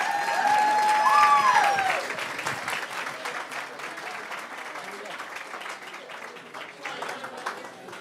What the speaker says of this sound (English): Let's have a nice round of applause for them.